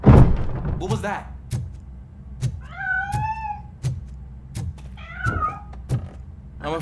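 A cat meows twice in RoboCop: Rogue City, each call a rising-and-falling wail, with heavy thuds and footsteps repeating through the scene and a burst of voice at the start.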